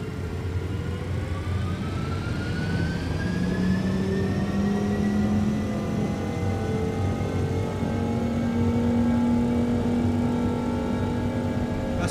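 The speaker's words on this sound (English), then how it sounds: "so takeoff thrust." Simulated MD-11 jet engines in X-Plane 12 spool up to takeoff thrust, a steady rising whine with climbing tones layered over a constant roar, sustained and even for about twelve seconds with no talk.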